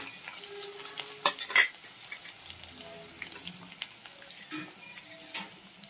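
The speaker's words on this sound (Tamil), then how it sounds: "நீங்கள் தூரமாக இருக்கணும் இல்லைன்னா பச்சை மிளகா வந்து தெரிக்கும்" Green chillies spluttering as they fry in a pan for rava upma, sharp sudden pops and crackles over a continuous sizzle, with a few stronger bursts and light stirring scrapes.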